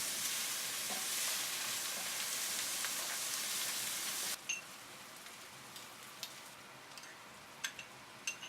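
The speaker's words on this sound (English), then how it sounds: "Then add the diced red onion, ginger and chillies into the pan. Fry them together for 2 minutes." Diced red onion, ginger and chillies frying in a pan, a steady close sizzle for a few seconds that then drops to a quieter crackle with occasional pops and ticks.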